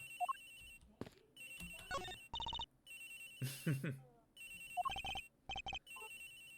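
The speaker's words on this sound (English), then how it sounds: "Agent takes his phone. It's ringing from somewhere, sir." A mobile phone rings in the Ace Attorney Investigations video game, playing a bright, lullaby-like electronic melody in repeated short phrases with gaps between them, clear and close, with no voices.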